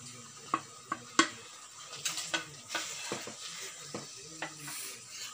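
Sliced tomatoes go into a hot pan on a Tamil tomato kootu, giving a soft sizzle with several distinct clinks and scrapes of a utensil against the pan, fairly quiet and close.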